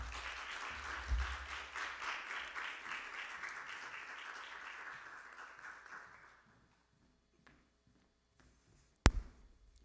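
A church congregation claps to welcome the pastor to the front, steady applause that fades out after about six seconds, followed by near silence and a single sharp knock.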